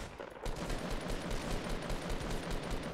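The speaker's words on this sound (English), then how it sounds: "he's firing the tactical shotgun from long range at me" Rapid tactical shotgun fire in the Fortnite battle royale game, a dense continuous stream of sharp blasts that keeps up loud and steady for about three seconds after a brief quieter start, with no talk over it.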